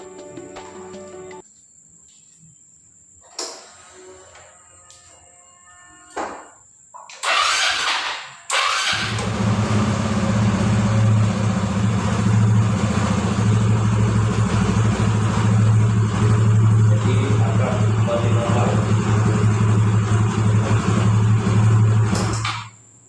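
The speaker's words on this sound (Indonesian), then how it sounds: "Oke, kita hidupkan motor." After some quiet clicks and a couple of cranking bursts, a Xeon motorcycle engine with an idle problem catches and settles into a steady idle, with crickets chirping in the background.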